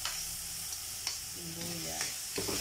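Garlic sizzles steadily in a hot pan, a continuous crackling hiss with a few sharper spits and stirring scrapes, close and even throughout.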